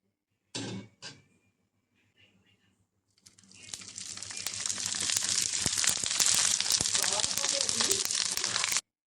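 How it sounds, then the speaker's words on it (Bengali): Peanuts are stirred as they fry in a pan over medium heat. After a few short bursts and a brief pause, a dense, rattling crackle builds and continues steadily at close range until the end. "বাদাম বাদাম দেয়া হয়ে গেছে এবার একটু নেড়ে নেব বাদাম ভাজার সময় অবশ্যই চুলা রাস্তা মিডিয়াম রাখতে হবে"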